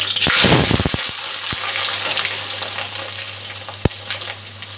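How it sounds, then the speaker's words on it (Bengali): Steady hissing sizzle of potatoes frying in hot oil, with a few clinks and stirring knocks near the start and one sharp tap later. "আলুটা ভেজে নিচ্ছি, তেল গরম হয়ে গেছে।"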